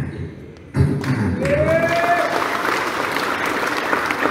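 Applause breaks out abruptly after a quiet moment at an Indonesian religious gathering, then continues as a steady crowd clatter with a voice rising briefly over it.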